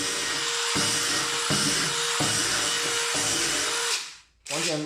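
A DeWalt DCF887 impact driver drills a hole, a loud close whirring buzz broken by brief regular dips before the motor stops near the end and briefly starts again.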